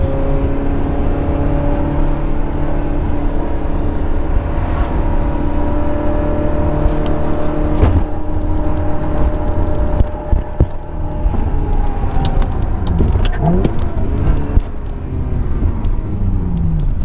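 A manual Ferrari 360 sports car drives along, its engine holding a loud, steady humming drone with shifting tonal harmonics and a brief dip partway through, heard close from inside with no talking.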